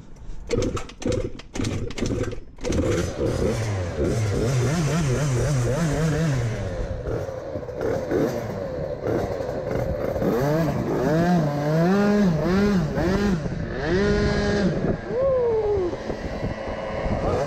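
A Booster 70cc moped with a Most LvL4 setup starts with a few sputtering pops, then revs hard and continuously up close, the pitch rising and falling through repeated throttle blips and a final high scream.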